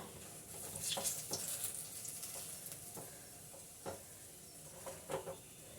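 Snacks fry in hot oil, crackling and sizzling steadily with faint pops and stirring, no voices over it.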